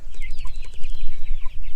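Chickens clucking and cackling close by while crowding in to eat at their feed, a busy overlapping chorus of short calls over low background rumble.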